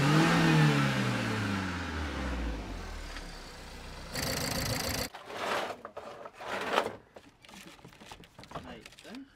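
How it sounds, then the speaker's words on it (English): A car engine is run properly for the first time in over three years: a rising rev sweep up front, then rough uneven throttle blips, with talk mixed in. "The car is running. First proper run in over 3 years."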